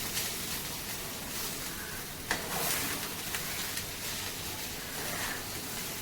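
Onion chutney frying in oil in a home kitchen pan, a steady close hiss and sizzle with occasional stirring scrapes and clinks, continuous and moderately loud, no talking.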